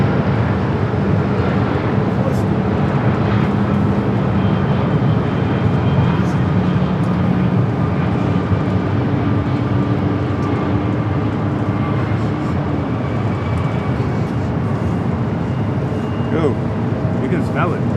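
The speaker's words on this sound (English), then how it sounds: "we got a Delta 757 and 200 up next for arrival" A Delta Boeing 757-200 arriving at LAX: a steady, loud, broadband jet roar that holds for the whole stretch, with people talking over it.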